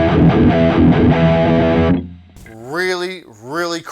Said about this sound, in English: Really cool effect to throw on a distortion.